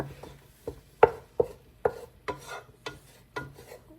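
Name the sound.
stirring a roux in a pan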